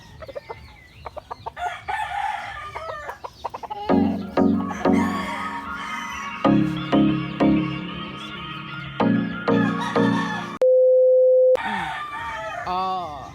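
A rooster, a Golden Monkey Sweater broodcock, crows repeatedly and loudly close by, long strained calls mixed with clucking from nearby chickens, with a steady electronic tone briefly cutting in near the end.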